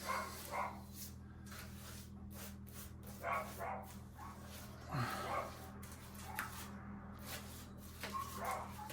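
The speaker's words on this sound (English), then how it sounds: "There's a dog fight out there." Dogs fighting outdoors, heard from inside a house under bathroom renovation, give several faint, distant barks and yips scattered across the stretch over a steady low hum.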